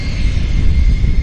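Central Mountain Air aircraft at Vancouver YVR airport, a loud, close, continuous low engine rumble with a steady higher whine, no break over the short moment.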